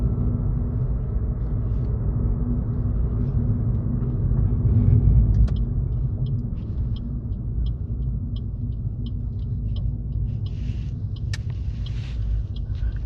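Low rumbling car engine and tyre noise from inside a vehicle as it turns around at a dead end during a driving test, a continuous steady drone with faint ticking on top.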